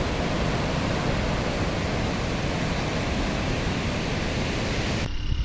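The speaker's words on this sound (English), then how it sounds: "finally this is NTPC beach, also known as Tikkavanipalam beach of Visakhapatnam" Waves roll in at NTPC (Tikkavanipalem) beach in Visakhapatnam, a loud unbroken roar of surf that fills the whole stretch and cuts off abruptly at the end.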